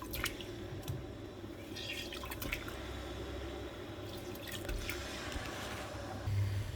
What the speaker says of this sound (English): Just halve them, squeeze them as you put them in, add the juices